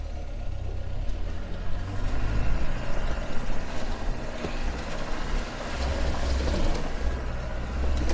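Off-road vehicle engine pulling hard in second gear up Joubert's Pass in Namibia, a loud steady low rumble with bumps and rattles.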